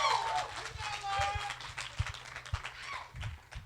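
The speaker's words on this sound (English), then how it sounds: "if everyone would give a round of applause" Wedding guests clap for the bride at a reception toast, a dense patter of applause with voices talking over it throughout.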